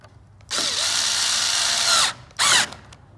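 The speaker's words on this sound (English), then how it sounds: "and then tighten them with a tool" A power tool tightens the spoiler bracket bolts on a Volvo V70R wagon, with one long buzzing run of about a second and a half, then a short second burst. It is loud and close, with no talk.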